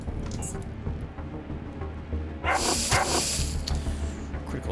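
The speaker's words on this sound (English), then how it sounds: "Didn't quite kill the dog." A dog yelps and whimpers in a fight in the video game Underrail, with a short burst of bright noise midway over a low steady game hum.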